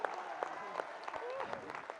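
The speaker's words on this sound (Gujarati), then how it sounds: "આપણી તાળીઓ" Scattered, fairly soft clapping at a student honors ceremony in Raysan, with distinct individual claps popping out irregularly beneath someone speaking over a microphone.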